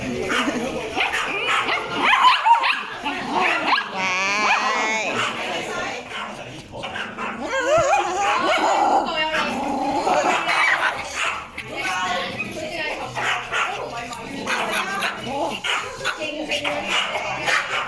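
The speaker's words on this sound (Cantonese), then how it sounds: "聽講會有40隻狗仔啊！ 我哋誤闖咗松鼠狗狗嘅生日會啊！" Dozens of Pomeranian dogs at an indoor pet-friendly dining area's dog birthday party yip, bark and whimper almost continuously, close and lively, with people talking among them.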